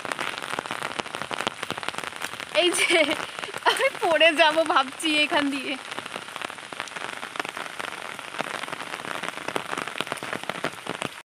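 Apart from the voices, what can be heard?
rain falling on a village road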